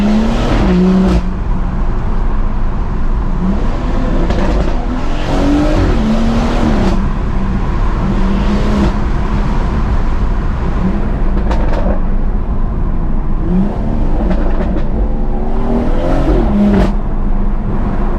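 BMW M140i with a new exhaust, engine revving under load while driving, loud sustained drone with rising and falling pitch sweeps as it accelerates and shifts, close and continuous.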